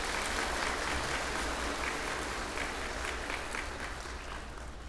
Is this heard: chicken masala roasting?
no